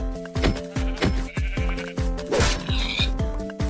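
Sheep in the game Minecraft bleat over and over in a quick, steady run of short nasal calls, close and clear, with a few brief extra blips mixed in and no talk.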